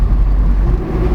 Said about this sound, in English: With the roof down, you get a nice little burble out the back there.